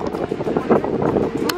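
Wind gusting at a beach with waves during a seaside holiday, a rough, buffeting rush over the microphone that rises and falls, heard alongside brief voices.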